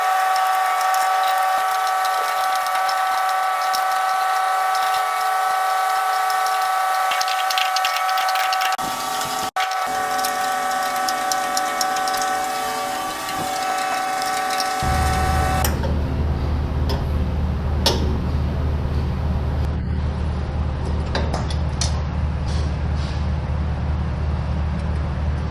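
An Earth & Turf 410-SP topdresser runs on a new belt, giving a steady mechanical whine with faint ticking. Partway through, it shifts into a heavier, deeper low rumble that continues to the end.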